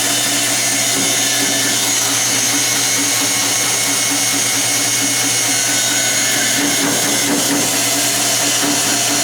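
A power saw trims both ends of a wood limb square for a winged bowl, a loud, steady, continuous machine drone with a whining buzz that runs unbroken throughout, no voices.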